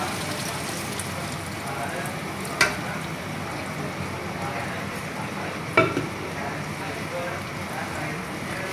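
Beef and tinda curry cooks in a pan with a steady soft sizzle and bubbling, broken twice by sharp clinks from a stirring spoon.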